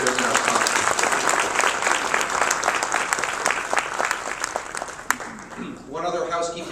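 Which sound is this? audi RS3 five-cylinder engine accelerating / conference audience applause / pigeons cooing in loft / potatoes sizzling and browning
conference audience applause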